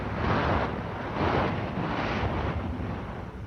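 A radio drama sound effect of a submarine surfacing: a broad rushing, churning roar of water and air that swells and ebbs in slow waves, loud and continuous with no voices.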